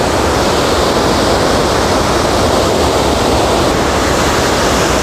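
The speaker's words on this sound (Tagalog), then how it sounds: "Ito po yung Wawa Dam. Ayan, ang lakas po ng tubig." Floodwater rushes through Wawa Dam after Typhoon Ulysses, a loud, dense, unbroken roar of churning water that stays constant throughout.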